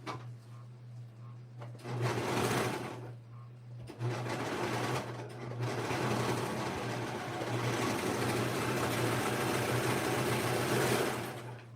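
A sewing machine stitches a child's dress in a short burst, then a longer steady run, with a constant low hum underneath and no talking.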